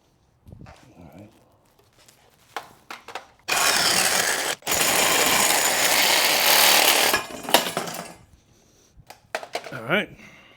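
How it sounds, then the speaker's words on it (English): A reciprocating saw cuts the seat bracket of a BMW K100 cafe racer in a loud, close burst of harsh buzzing lasting several seconds, with scattered clanks and handling noises before and after. "I'm gonna try to get it with a reciprocating saw if possible."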